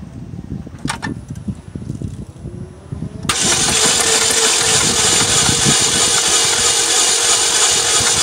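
A 2007 Saturn Vue with no compression in all cylinders being cranked during a compression test; after a few seconds of quiet shuffling, a loud steady whirring crank starts abruptly and holds evenly to the end.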